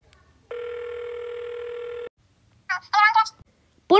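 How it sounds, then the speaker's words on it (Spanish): A telephone dialed to order a pizza: a steady dial tone holds for about a second and a half, then a short burst of tones before a voice begins speaking. "Yo creo voy a pedir una pizza en el teléfono."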